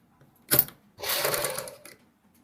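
Sewing machine stitching a fabric strip onto a girls' top, heard as a short buzzing burst followed by a longer steady run of stitching, close and fairly quiet.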